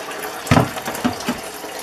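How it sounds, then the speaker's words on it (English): Water gushing from a kitchen sink faucet into a pot being filled for turkey bone broth, with splashy bursts and uneven surges of running water close by. "He's going to fill it with water."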